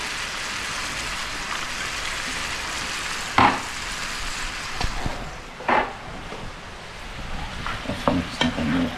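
Food fries in a pan with oyster sauce, giving a steady dense sizzle, while a utensil stirs and scrapes it in several distinct sharp bursts near the end, close and loud.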